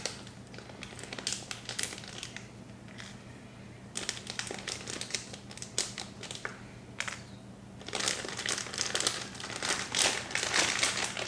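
Mushroom grow bag being handled and crinkled as paper clips are taken off, a steady soft plastic rustling and crackling with louder bursts, no talking over it.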